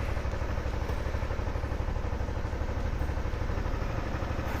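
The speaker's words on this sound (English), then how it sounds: "250 cc's of sexy Kawasaki Fury." A 250cc Kawasaki Fury motorcycle idles at night, its engine putting out a steady, low, rapid chugging throb with no break.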